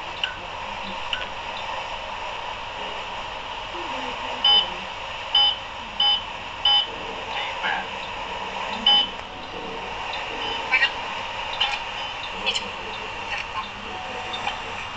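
Car GPS navigator on a drive from Moscow to Crimea, giving a short series of clipped electronic beeps in quick succession over steady road and cabin noise, with no talking.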